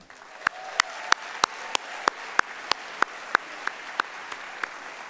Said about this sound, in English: A round of applause for Rudy and Elaine.